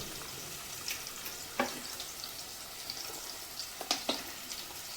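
Ingredients for chicken gravy are sautéed in a pan with a soft continuous sizzle, broken by a few sharp scrapes and clicks of a stirring spoon.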